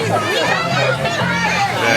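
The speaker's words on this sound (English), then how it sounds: "The crowd, as they have all day, having something very specific to say." A crowd at an ETWA Heatwave 2022 wrestling event, Mullet Man vs. Sonny Defarge, shouts and chants loudly together as a dense, continuous mass of voices filling the arena.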